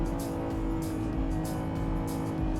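Lamborghini Revuelto plug-in hybrid supercar accelerating hard at full throttle through a corner, a dense, steady engine roar holding loud and close throughout, with no talk over it.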